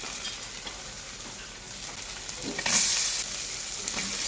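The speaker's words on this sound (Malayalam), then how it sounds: "അതിലേക്ക് നമുക്ക് ഇഞ്ചി വെളുത്തുള്ളി പച്ചമുളക് പിന്നെ കരുവേപ്പിലയിട്ട് കൂട്ടത്തിൽ കൊച്ചുള്ളിയും സവാളയും ചേർത്ത് നന്നായി വഴറ്റിയെടുക്കാം" Ginger, garlic, green chili, curry leaves, shallots and onion sautéing in a pan for Kerala-style Bellary beef, a steady close sizzle that swells into a louder hiss of frying midway, with no talking.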